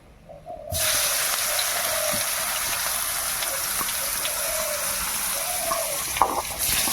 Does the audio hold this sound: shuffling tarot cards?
no